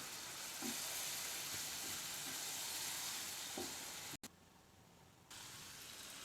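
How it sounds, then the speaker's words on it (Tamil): Steady hissing sizzle of water and oil boiling in a hot pan while cooking wheat pasta, a continuous close crackle with occasional pops, briefly cut off near the end. "இப்போது நல்லா எண்ணெயெல்லாம் திரண்டு நல்லா கொதித்து வந்திருக்கு பாருங்கள்"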